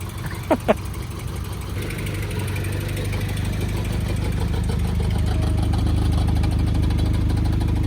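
A Mk1 VW Caddy Rabbit truck engine runs near the listener on a new exhaust, a rough, low, droning idle that grows slightly louder, with two brief sharp squeaks early on.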